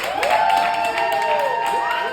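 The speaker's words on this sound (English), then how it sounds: "Can everybody clap for Belle?" An audience claps and cheers for a poet at a lively performance, a short, loud burst of crowd noise with high whoops and shouts riding over the clapping.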